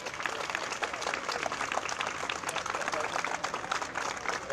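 A crowd of spectators applauds association volunteers at a cycling-in-heels event, a steady dense wash of clapping with no pauses throughout.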